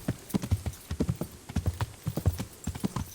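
Rhythmic clip-clop of horse hooves in the medieval video game Kingdom Come: Deliverance, steady trotting footfalls close and clear, carrying on alone for a few seconds with no talk over them.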